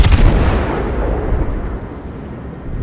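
A battleship's main guns fire in World of Warships, from a Myoko cruiser battle: a loud, deep rumbling boom that rolls and slowly fades over a few seconds, heard alone.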